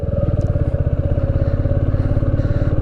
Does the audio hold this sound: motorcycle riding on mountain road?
yes